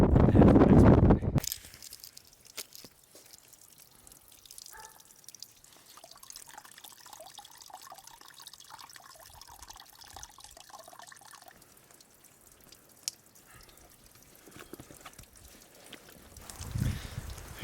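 Water is filled at the Liberty Springs tent site, a backcountry camp off a mountain trail, with a soft steady trickle and faint drips running quietly for many seconds after a brief loud gust at the start.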